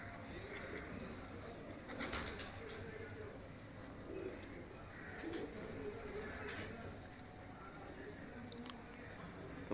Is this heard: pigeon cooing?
yes